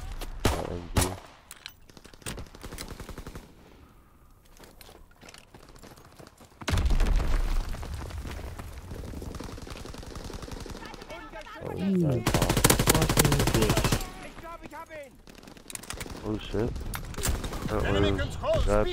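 Machine gun fire in the shooter Call of Duty: WWII rattles in repeated loud bursts, with scattered single shots and booms between them, while players talk over the gunfire.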